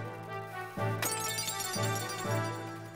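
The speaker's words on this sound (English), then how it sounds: "Breaking glass." Retro video game breaking-glass effects from Xenogears: a few short, bright shattering crashes come in quick succession over a steady, tonal in-game music bed.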